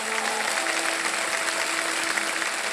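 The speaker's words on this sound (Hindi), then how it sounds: "ताली बज जाए इनके लिए।" Studio audience applause for a contestant on the quiz show Kaun Banega Crorepati fills the space with continuous dense clapping, steady and moderately loud, with a faint sustained musical tone underneath.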